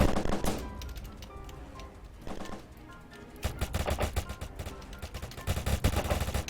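Shooter video game gunfire comes as rapid bursts of sharp shots, sparse at first and then dense, continuous automatic fire in the second half, with no voices.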